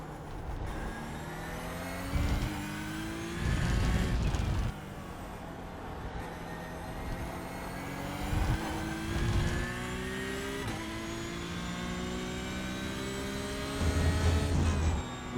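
Porsche Cup race car engine in the iRacing sim, a steady high-revving whine at full throttle that rises through the gears, with brief bursts of road and tyre noise.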